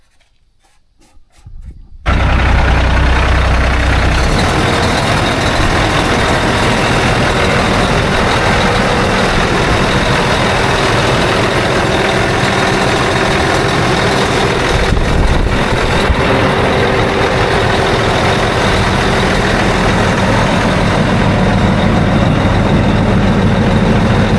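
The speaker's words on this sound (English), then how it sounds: "we're gonna check the truck when we start the engine" Volvo VNL truck with a Cummins ISX engine cranks and fires after a quiet moment, then settles into a loud, steady diesel idle rumbling close by for the rest of the time.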